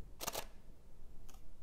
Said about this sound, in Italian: questo è il rumore dell'otturatore meccanico